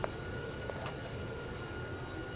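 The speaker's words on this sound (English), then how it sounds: "I don't even know if this plane will land in Sea Heaven." A steady airplane engine drones continuously in a flight game as the plane approaches Bird's Island, a broad, even roar with no talking.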